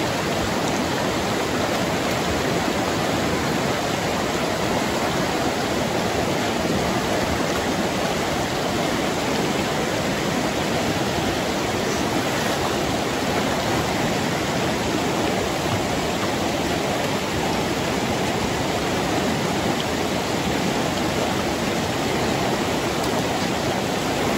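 Wallace Creek on the Pacific Crest Trail rushes past at a good flow, a loud, unbroken wash of moving water filling the scene from start to finish, with no talk over it.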